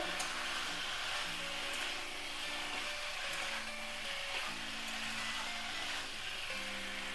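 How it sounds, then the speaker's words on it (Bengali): Cauliflower fried and stirred in a pan for a Bengali egg curry, a steady broad sizzle with faint scraping and a low background hum, fairly close, with no voices. "একটু ভালো করে কষিয়ে নেব।"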